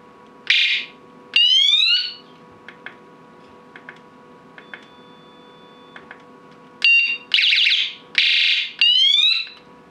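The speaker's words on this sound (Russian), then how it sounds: "сей фонарь оснащен еще и звуковым сигналом" A bicycle lamp's built-in sound signal gives several loud, shrill warbling electronic alarm bursts, two near the start and three near the end, with faint ticking clicks in the quieter stretch between.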